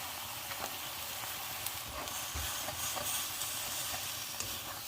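Cha-om and glass noodles stir-fried in a pan give a steady, close hissing sizzle with soft scraping from stirring. It runs unbroken for five seconds with no talk.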